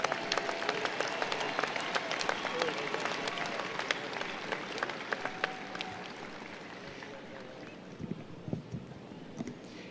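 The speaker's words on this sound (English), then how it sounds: "All right, one more round of applause for all of the master's students." An audience at a spring commencement ceremony applauds master's graduates, scattered sharp claps and cheering that gradually thin out, somewhat distant in a large space with light wind noise.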